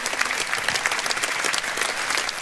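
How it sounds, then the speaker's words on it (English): A rally crowd claps steadily for a couple of seconds, a dense, even patter of many hands with no voices standing out. "Round of applause for some of our candidates here."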